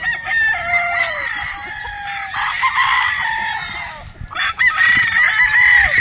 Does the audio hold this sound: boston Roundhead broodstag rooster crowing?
yes